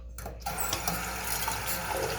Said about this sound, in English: Lots of water in that aerator